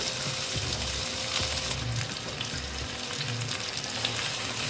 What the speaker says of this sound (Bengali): আলুগুলো একদম ভালো মতো ভেজে নেব